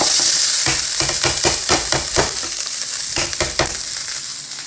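Browned beef chunks for slow-cooker stew sizzle loudly in a pan, with a steady hiss broken by repeated scraping and stirring strokes close up.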